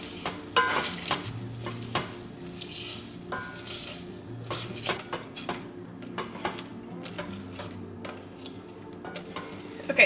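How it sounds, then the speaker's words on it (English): Thawed frozen cranberries being mashed with a potato masher in a kitchen, giving repeated soft squishing strokes and scattered clicks of the masher against the pot, close and steady, with no talking. "I'm just gonna mash them with a potato masher"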